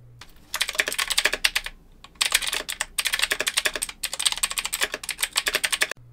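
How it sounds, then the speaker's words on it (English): Fast typing on a mechanical keyboard with stock Cherry MX Blue switches, crisp clicky keystrokes in three quick bursts separated by short pauses, close and clear with no talk. "Let's give a before with the stock MX Blue switches."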